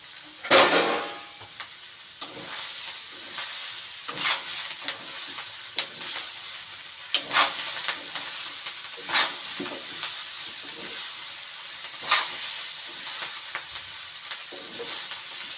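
Masala and salt being stirred into food sizzling in a frying pan, with steady hiss and sizzle and a series of sharp spoon scrapes and clinks against the pan, close up and without talk.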